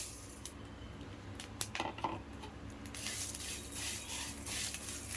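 Red chillies dry-roast in a pan without oil: faint clinks and scrapes of stirring come in sparse, quiet bursts over a low hiss.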